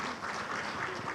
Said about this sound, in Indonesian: Tepuk tangan dulu buat Bapak Hasim.